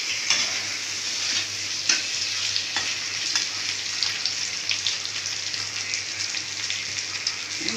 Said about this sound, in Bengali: পনিরটা ভেজে তুলছি